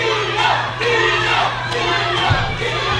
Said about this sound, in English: you can hear the fans here at the Knights of Columbus Hall